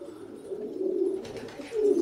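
Tumbler pigeons in a loft in Mafraq coo nearby, a low throaty rolling call rising and falling, with a second coo starting near the end.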